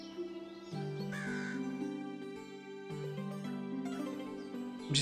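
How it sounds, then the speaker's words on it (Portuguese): A crow caws in the medieval survival game Medieval Dynasty. The calls are mid-distance and sit over steady, tonal in-game background music, with no talk. "Dá pra caçar o corvo."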